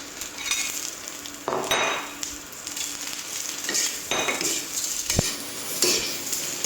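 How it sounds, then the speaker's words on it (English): Meat, onions and mixed peppers stir-fried in a wok on an induction burner, loud continuous sizzling broken by repeated metal scraping and tossing strokes, with one sharp clank, no voices. "I'm just getting some wok here, some charredness on everything that I've got in there that's dry."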